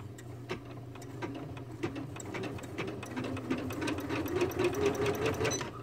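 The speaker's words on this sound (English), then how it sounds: "So now I put my presser foot down and I press the start button" A Janome 350e embroidery sewing machine stitches steadily, a close, fast, rhythmic ticking and whirring hum that grows slightly louder as it runs, with no talking.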